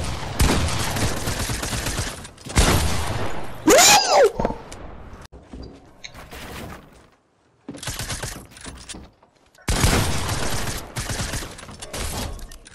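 Shotgun blasts and dense gunfire in a video game, loud and near, in heavy bursts with a short lull in the middle and a brief squealing cry near the start.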